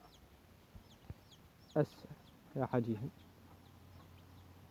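Chickens clucking in a short series of close, loud calls, one isolated cluck followed by a rapid burst of several, over a quiet background with brief talk.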